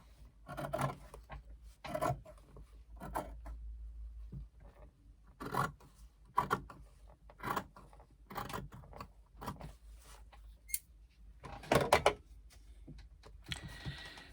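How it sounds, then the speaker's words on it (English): Fabric scissors trim excess material off a sewn laptop bag in a series of separate crisp snips, each a short, close cut with quiet pauses between them. "Make that sure that's nice and straight and trim the excess off."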